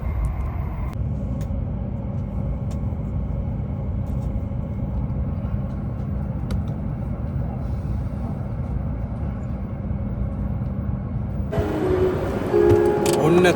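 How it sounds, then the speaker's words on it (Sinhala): A Shinkansen bullet train running at speed in Japan toward Toyama gives a steady, loud, low rumble throughout, with a brief change in the sound near the end. "සිංකන්සන් එක බුලට් එක"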